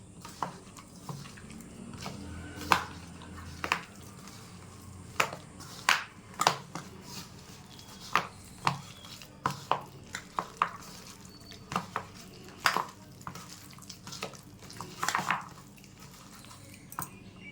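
Fish roe is mashed and mixed by hand with turmeric and salt, a long run of close, wet squelching and soft slapping pulses at an irregular rhythm over a faint background hiss, with no talking.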